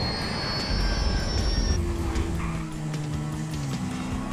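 A steady engine roar with a high whine that drops away as an engine fails, then lower droning tones take over, an aircraft in flight in GTA 5, loud and continuous.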